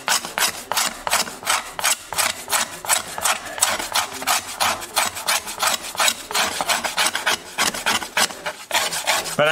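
A hand scraper rasps steadily across old finish on wood, in fast repeated strokes with an even back-and-forth rhythm. The scraping is close and loud with no talking.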